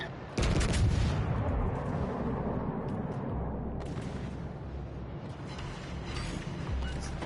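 A ship's main guns fire in World of Warships Legends naval battle, one heavy deep boom near the start rolling into a long low rumble, with fainter distant thuds following.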